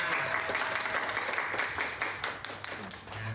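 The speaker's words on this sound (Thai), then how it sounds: "ขอเสียงปรบมือให้น้องชมพู่หน่อยค่ะ" A crowd at a hospital contract-signing ceremony claps for Chompoo, producing a steady, dense patter of many hands that carries at even loudness through the whole stretch.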